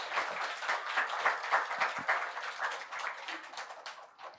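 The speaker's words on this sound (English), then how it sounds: "Please, a round of applause for Shankar and Kevin." Audience applause at an Indian book launch, dense hand clapping that swells and holds fairly evenly for several seconds, moderately loud and without speech over it.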